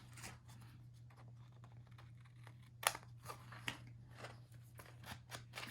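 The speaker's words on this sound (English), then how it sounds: "so let's trim" Scissors trimming paper for a rustic Christmas craft, a few faint, quiet snips spread across a hushed room, with one sharper cut standing out.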